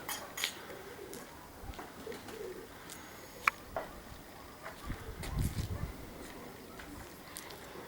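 Domestic pigeons flying out of doors, with scattered soft wing flaps and brief cooing calls spread across a windy background, mostly faint with a few closer bursts.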